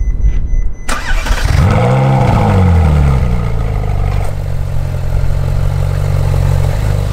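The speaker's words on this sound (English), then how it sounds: "just listen to that exhaust" A Ferrari 458 Spider engine fires up and revs, its exhaust rising and falling in pitch, then settles into a steady, deep burbling idle. Loud and close.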